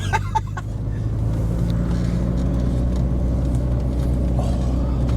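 A Ford Sierra Cosworth engine hums at a steady idle from inside the car, a low continuous drone with some faint clicks and rustles at the start, no talk over it.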